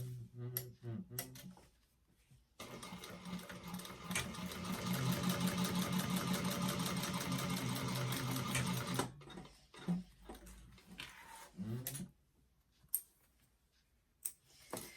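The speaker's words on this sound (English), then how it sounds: "you're going to top stitch along that as well" A sewing machine topstitches along a bag's gusset seam in one steady, loud run of several seconds, preceded and followed by quieter handling noises.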